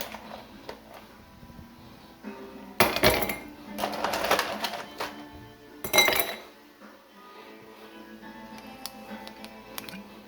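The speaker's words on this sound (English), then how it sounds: "We're just gonna put some ice in a glass." Ice cubes clink and rattle into a glass in two distinct bursts, near and fairly loud, with smaller clinks between them in a quiet kitchen.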